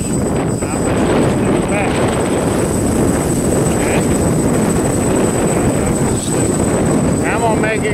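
Quadcopter drone flying backward, a steady whirring buzz of its propellers mixed with heavy wind rumble against the microphone, loud and continuous, with a faint high-pitched tone running throughout.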